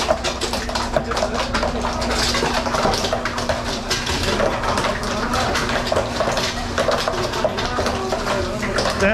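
Continuous rattling and clattering of ice cubes dropping inside a Hoshizaki ice machine harvesting ice, with a steady hum beneath, fairly close and constant throughout.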